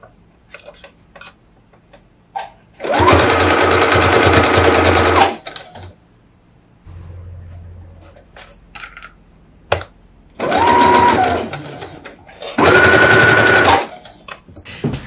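A sewing machine stitches fabric for a mushroom hat in three loud, close bursts of rapid mechanical whirring, separated by quieter handling clicks and rustles.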